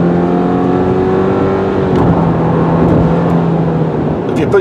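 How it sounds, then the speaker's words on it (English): A 2022 Subaru Forester Wilderness with a CVT transmission drones while accelerating, a steady engine tone holding nearly constant pitch as speed builds, loud and close, with a voice talking over it. "Especially with a CVT transmission that drones and drones"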